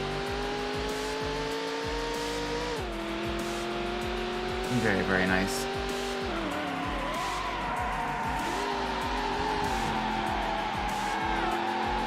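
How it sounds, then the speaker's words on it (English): A Corvette in Need for Speed Hot Pursuit 2 roars steadily throughout, its pitch dipping and climbing through gear changes, with a brief squeal of tires in the middle; someone talks briefly over the engine. "I love the Corvette sound in this game"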